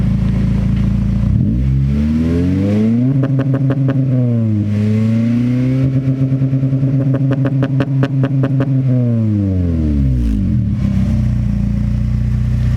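A tuned Acura RSX Type S with a widebody kit and Kpro V4 tune revs hard through a loud exhaust, climbing and holding high in repeated sweeps before dropping back to idle, close by and alone.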